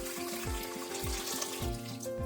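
Water runs steadily from a tap into a pot holding tamarind and a tomato for Andhra-style rasam, a continuous close splashing stream with no voices.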